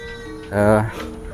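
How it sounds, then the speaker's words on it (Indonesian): A single goat or sheep gives one short, nasal bleat, fairly close, inside a livestock pen at 78 Farm in Yogyakarta, with a faint murmur of other farm background around it. "kambing domba di 78 Farm Yogyakarta"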